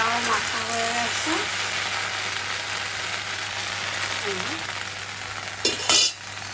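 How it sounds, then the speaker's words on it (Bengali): Okra (bhindi) frying in a pan at home, a steady broadband sizzle with occasional stirring and a brief clatter of utensils near the end, while a faint voice talks in the background. "ভেন্ডি ভাজা প্রায় হয়ে গেছে"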